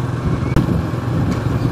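Traffic on the Kalyani highway roars steadily, with a constant low rumble of passing cars and trucks close by, heard from a moving bike amid wind noise and no talking.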